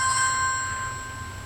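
A phone rings indoors with a steady electronic ringtone, several sustained pure tones held evenly for the whole short stretch, moderately loud and with no voices.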